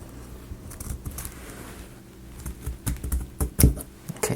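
Pieces of a Christmas book nook kit being cut, the blade giving a run of close, irregular snips and crunches that grow louder and denser toward the end, with no talk.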